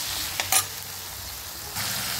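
Tomato sizzles and fries in a curry pan, with a couple of brief stirring scrapes near the start and a louder burst of sizzling toward the end, close and steady with no talking.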